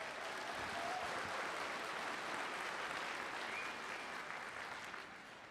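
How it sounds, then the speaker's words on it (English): Sustained applause from a commencement audience honoring staff and faculty, a dense, steady wash of many hands clapping that carries on throughout and eases slightly near the end. "Let's give them a round of applause."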